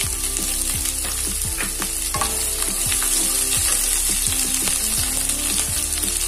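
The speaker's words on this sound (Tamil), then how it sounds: "இப்போ இது ரெண்டுமே லைட்டா வறுபட்டதுக்கு அப்புறமா நம்ம வெங்காயத்தை சேர்த்துக்கலாம்" Onions frying in a pan for Hotel-style tomato chutney give a loud, steady sizzle with occasional stirring scrapes, close and continuous, with no voices.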